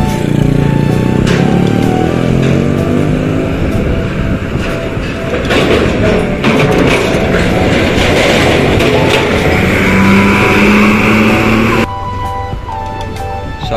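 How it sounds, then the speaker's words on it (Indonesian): Tour buses drive past one after another, a loud, continuous roar of engines and road noise with sustained horn-like tones rising over it and a brief change in texture near the end. "Selanjutnya diikuti unit bus pariwisata"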